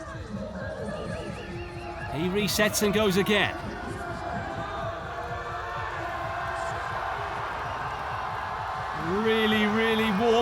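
A crowd murmurs and cheers in the background at an outdoor strongman competition in England during the stones event, with steady commentary talking over it and a rising swell of noise near the end.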